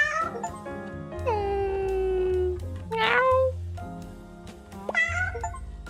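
Several cat meows in a row from the video game 100 Capitalist Cats, some drawn-out and whiny, one rising into a strained yowl, fairly close and clear over a low electronic hum.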